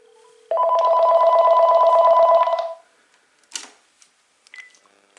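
A Panasonic KX-TG5243 cordless phone handset rings for an incoming call: one sustained warbling electronic ring burst, loud and close, followed by a few faint clicks and handling noises.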